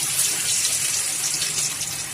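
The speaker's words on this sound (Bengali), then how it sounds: "তেল গরম হয়ে গেছে, মাছ দিয়ে দিচ্ছি।" Fish seasoned with turmeric goes into hot oil in a home kitchen pan, giving a close, loud, steady frying sizzle that hisses evenly throughout without any voices.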